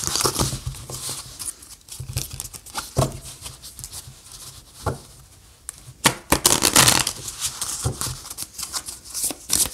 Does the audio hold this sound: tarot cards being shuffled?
yes